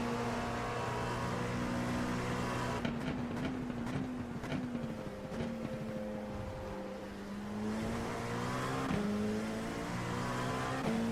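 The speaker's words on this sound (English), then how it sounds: "Here comes the hypercars." Hypercar race cars in the iRacing sim roar past in succession, their engine notes rising and falling as they sweep by. A loud, continuous wall of layered motor tones comes from several cars in close traffic.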